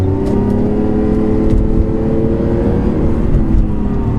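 A modified Lamborghini Aventador engine roars under hard acceleration, a loud, continuous, deep mechanical drone heard from close inside the car with steady road rumble and no voices.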